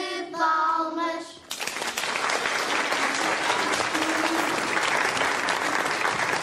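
After a brief voice, a crowd breaks into loud, sustained applause for Father António on a feast day, a dense wash of many clapping hands that holds steady to the end.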